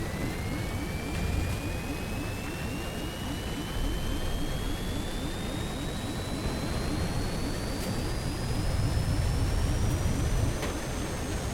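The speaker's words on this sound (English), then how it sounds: "This plane's got a lot of turbulence." An airplane engine roaring during a crash in the video game Stranded Deep, a loud continuous jet-like rumble with a rising whine sweeping slowly upward throughout.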